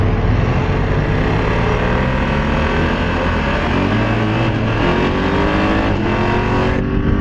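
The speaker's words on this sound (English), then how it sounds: "I don't really like the way the engine sounds when you're revving it a little bit" A BMW F 900 GS Adventure motorcycle engine revs and rumbles steadily, pitch rising and falling, loud and close throughout.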